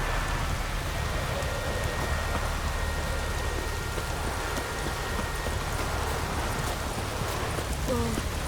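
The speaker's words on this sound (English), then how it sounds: "Oh, raining again." Steady rain hisses across the whole stretch in The Witcher 3: Wild Hunt, a dense wash of drops on surfaces, with faint hoofbeats and a brief tonal call near the end.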